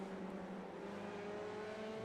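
Dallara F3 open-wheel race car at the Nürburgring, its engine holding a steady high-pitched drone at moderate distance throughout, no voices.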